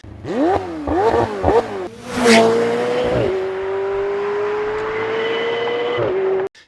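A McLaren 720S sports car with its stock straight-pipe exhaust revs sharply several times in quick bursts, then rises into a long, steady high-pitched drone before cutting off abruptly.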